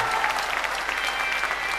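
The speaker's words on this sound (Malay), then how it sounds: "Tepukan tangan" A brief burst of dense, steady audience applause at a rock concert in the Istana Budaya hall, with the crowd clapping continuously and no one speaking.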